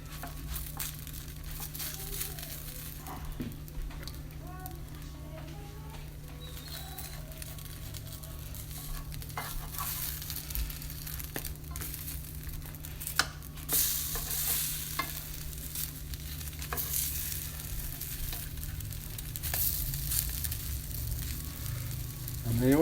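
A kimchi pancake fries in sesame and olive oil in a 14-inch pan, with a continuous sizzle under steady scraping and stirring from a utensil, plus occasional crinkling, close and moderately loud throughout.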